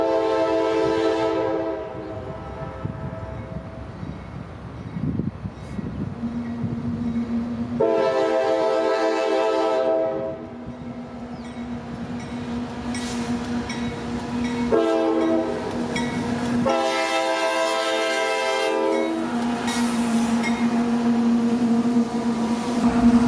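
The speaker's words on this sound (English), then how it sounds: "a headlight appears and the morning quiet of West Tampa is shattered by my favorite horn" Loud multi-chime horn of a CSX freight train hauling phosphate loads, led by a GE AC-44CW locomotive in West Tampa, sounding in several long blasts and shorter bursts over a steady rumbling engine and passing cars.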